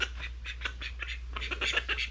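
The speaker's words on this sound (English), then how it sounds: "The ducks, you know, can never keep their water clean." Ducks quacking in a homestead pen, a run of short, nasal calls repeating in quick uneven bursts, close by and moderately loud over a low steady hum.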